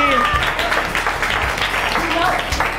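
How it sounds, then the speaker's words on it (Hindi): Audience applause at a school quiz show for children, a steady wash of clapping running throughout with voices and bright tonal sounds mixed in over it. "तालियां बजा दीजिए भाई"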